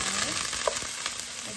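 Onions and garlic frying over medium heat in a pan, a close, steady sizzle with a few light scrapes of stirring, no voices.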